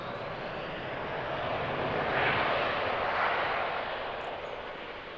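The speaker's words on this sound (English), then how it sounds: "And some loud reverse thrusters." An Embraer E175 jet lands and its reverse thrust gives a loud, continuous roar that swells and then slowly fades, heard from a distance at an airport, no talk.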